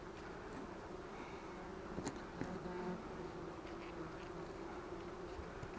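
A steady, droning buzz of bees hums throughout, fairly close and continuous, with a few faint clicks and rustles on top.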